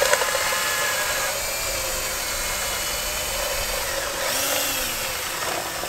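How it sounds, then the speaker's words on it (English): Loud, continuous whine of a power drill drilling through a stack of plastic cups to make drainage holes, running steadily up close, with a brief rise in pitch near the end and no speech. "We're going to just drill a whole stack of these all at once."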